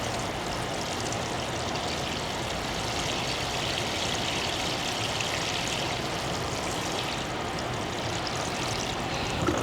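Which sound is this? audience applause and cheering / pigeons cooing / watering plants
watering plants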